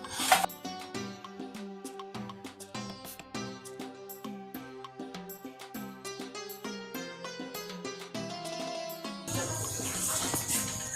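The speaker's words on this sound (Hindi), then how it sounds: "अब पानी इसमें मैंने शामिल कर दिया है चावलों का" Water pours into a pot of fried rice for chicken biryani, a splashing rush rising near the end beneath steady background music.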